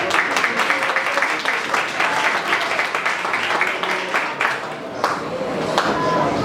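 A church congregation applauds a brother during a morning service, a steady room-filling patter of many hands lasting several seconds with some voices underneath.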